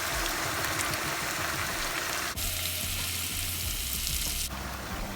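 Blended onions, garlic, ginger, thyme and rosemary fry in a pot with a loud, steady sizzle that runs unbroken throughout, its hiss shifting slightly in tone partway through.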